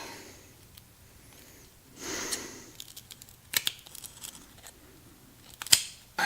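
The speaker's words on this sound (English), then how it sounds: "Okay, so the scissors here. I'm just gonna cut this." Scissors cutting wire on a Maico 620 dirt bike in a garage, a few sharp snipping clicks and crunches scattered among quiet handling noises, close and fairly faint.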